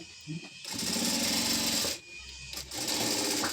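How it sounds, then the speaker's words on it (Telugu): Sewing machine stitching the folded corner of a T-shirt collar, a loud steady run of about a second and a half, a pause, then another burst and a third short run. "ఫోల్డింగ్ చేసుకొని ఈ కార్నర్ స్టిచ్ చేసుకోవాలి"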